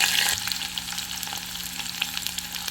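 Green chillies and onions sizzle and crackle in hot ghee in a pan as ghee rice is being made, a steady close frying hiss with occasional stirring clicks, louder at the start, with no talking.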